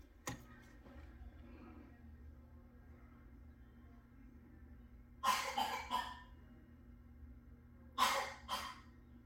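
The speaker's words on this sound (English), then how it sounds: "Coughing in the other room." A 2-year-old child coughs in another room: two muffled clusters of several coughs each, moderately distant, separated by a quiet stretch of faint room hum.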